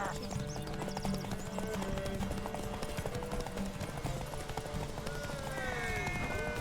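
Hoofbeats of the horse Roach galloping in The Witcher 3 fill the whole stretch as a steady, close clip-clop rhythm, with a whinny near the end and a voice speaking over the top.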